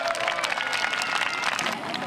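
Spectators at a European youth hot-air balloon competition clapping outdoors, a moderate, fairly distant patter of many hands that runs steadily, softer toward the end.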